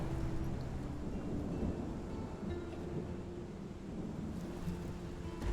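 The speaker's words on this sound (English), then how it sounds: "There's something nice about that rain noise, isn't there?" Rain falling outside near a forest during a stormy spell, a dense steady wash of noise with a low rumbling undertone, continuous and fairly loud, with no voices.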